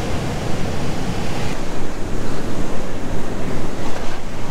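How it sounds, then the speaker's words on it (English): Loud, steady roar of ocean waves breaking at Trestles surf beach in Southern California, a dense continuous wash with wind buffeting the microphone throughout, no voices. "the coolest surf beach in at least Southern California"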